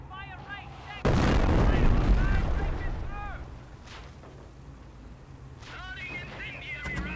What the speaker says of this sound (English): Continue to barrage the enemy squad until they are defeated.